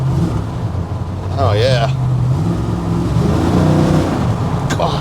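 A 1969 GMC with a high-compression LS3-based 416 all-motor V8, a loud close engine drone climbing in revs and holding high, with a man briefly exclaiming over it.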